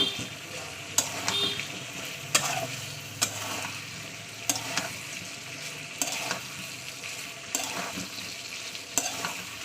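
Meat frying in a pan with ginger-garlic paste: a soft, steady sizzle broken by regular spoon scrapes and clatters every second or so.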